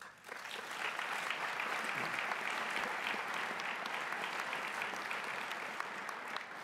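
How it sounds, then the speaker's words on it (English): An audience at the 2018 Bowerman award presentation, a coaches' association event, breaks into applause that stays full and steady, a dense wash of many hands clapping for the whole stretch. "A round of applause for them."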